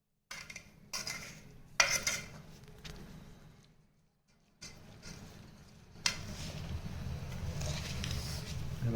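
Spoon stirring thick set yogurt (dahi) in a bowl: repeated scraping and clinking of metal against the dish in irregular bursts, close and fairly loud, with a short pause midway and busier stirring toward the end.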